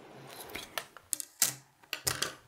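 Scissors cutting tulle fabric for a skirt, a series of crisp snips in irregular bursts close to the listener, with quiet pauses between cuts.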